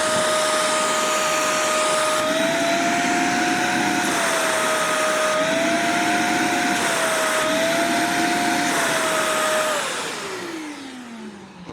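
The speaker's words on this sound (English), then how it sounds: "With the dirty filter, I want to show you how powerful this is." A powerful detailing vacuum extractor with a dirty filter whines steadily at a high pitch, its tone wavering slightly, then winds down as it switches off near the end.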